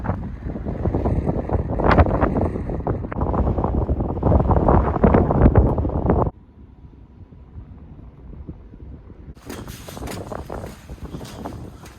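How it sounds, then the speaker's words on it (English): Loud, blustery wind on a mountaintop roars across the microphone for about six seconds, then drops abruptly to a quieter rumble before gusting up again. "It's super windy up here as expected."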